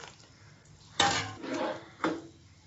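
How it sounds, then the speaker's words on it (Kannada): A spoon scrapes and knocks against a pot while majjige huli, a buttermilk curry with cooked vegetables, is stirred, giving two distinct clinking strikes about a second apart, near and fairly quiet. "ಚೆನ್ನಾಗಿ ಒಂದ್ಸಲ ಮಿಕ್ಸ್ ಮಾಡ್ಕೊಂಡು"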